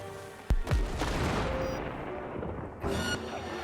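A grenade blast in the Cyberpunk 2077 video game: a sharp, loud, close boom that is followed by a sustained rumbling roar and then a second burst of noise near the end.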